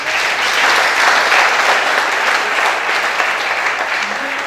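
A church congregation bursts into sustained, steady applause during worship, a dense wash of clapping hands that holds at full strength for several seconds with no break.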